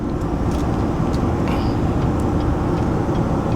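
A GMC Sierra 1500 pickup with the 5.3L engine hauls a heavy load up a 6% grade, holding around 3,400 RPM. It makes a steady, loud, broadband roar of engine and road noise, with no talk.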